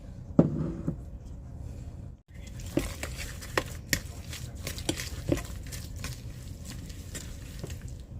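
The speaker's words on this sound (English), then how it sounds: "We're just going to get all of our sugar and butter and eggs mixed together" Sugar, butter and eggs for cookie dough being stirred together in a bowl, a steady wet scraping and patter with soft clinks of utensil against the bowl, close and continuous with a brief pause.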